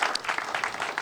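A short burst of crowd applause at the reopening of a state fair coliseum, dense and steady, with a faint voice beneath the clapping.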